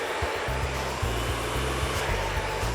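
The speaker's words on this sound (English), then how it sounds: "You don't want to burn the client by getting the dryer too hot and too close to her scalp." A hair dryer blows during a smooth, straight salon blow-out, with a loud, steady whirring hum broken by brief dips as the airflow shifts, close up and with no talking.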